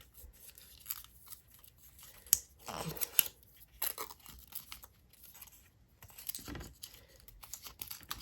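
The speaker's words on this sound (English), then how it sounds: "it's wrapped up in like this paper." Paper wrapping is peeled away from a new Apple Watch Ultra 2 during an unboxing, making quiet, scattered crinkles, rustles and small tearing crunches in irregular bursts, with no talking.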